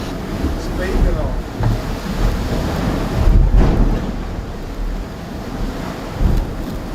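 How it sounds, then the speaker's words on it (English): Waves and spray pounding a Seawind 1370 catamaran under sail in about 25 knots of wind, a steady rumbling wash with gusty wind buffeting the microphone and periodic louder slaps as the hulls bounce through the waves. "just a lot of spray and a lot of kind of like bouncing off those waves"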